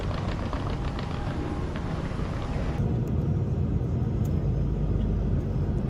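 An Airbus A380 airliner rolls through a landing in a flight simulator, a steady broadband roar of engine and air noise that holds constant throughout, with faint high tones entering partway.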